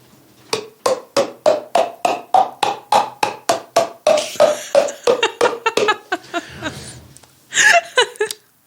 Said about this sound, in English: I clap my hands together and the clap forces air into my mouth